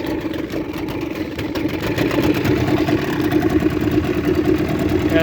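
A motor running steadily on a modified Intex Excursion 5 inflatable boat moving forward, a loud, continuous mid-pitched drone with a rattling pulse that grows slightly stronger over the seconds, with no voices over it.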